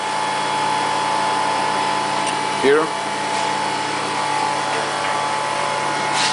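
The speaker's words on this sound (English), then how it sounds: "Now you can hear that a vacuum pump started to work." A vacuum pump runs inside an IP MAL 900 tumbler machine, giving a steady mechanical hum with a faint tonal whine. A brief spoken word cuts in midway.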